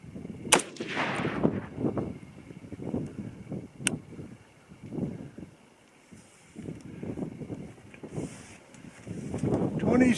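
A single sharp 6.5 Creedmoor rifle shot cracks out at an outdoor range near the start, standing out over wind noise on the microphone, with someone talking during the rest.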